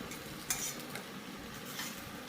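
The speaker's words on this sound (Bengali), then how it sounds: "আলু আর কচুটা তুলে নিই" Fried potato and taro pieces are lifted out of hot oil with a steady low sizzle, a few light clinks of a metal spoon against the pan and soft scraping, close by and with no talking.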